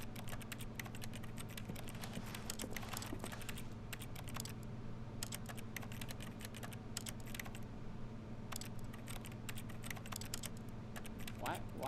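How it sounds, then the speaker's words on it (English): Keyboard typing noises in the video game The Stanley Parable, a fast, continuous patter of key clicks running throughout at moderate level, with occasional talk underneath. "Why does it make typing noises when I press E?"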